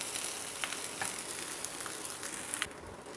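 Vegetable paneer fried rice is gently stirred and lifted in a hot pan, with a soft steady sizzle and faint scraping clicks of the spatula throughout.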